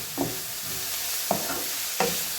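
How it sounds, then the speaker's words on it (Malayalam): Onions with a pinch of salt sauté in a pan, a constant close sizzle broken by three distinct spatula scrapes spaced about a second apart. "സവോള വഴന്ന് വരാൻ വേണ്ടിയിട്ട് പെട്ടെന്ന് വഴന്ന് വരാൻ വേണ്ടിയിട്ട് കുറച്ച് ഉപ്പും കൂടി ഇടണം"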